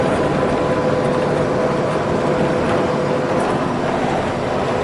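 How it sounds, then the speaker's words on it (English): A train rolls past nearby on the rails, a steady, loud rumble and clatter that fills the whole stretch without a break, with no voices over it. "Hey, look, more trains."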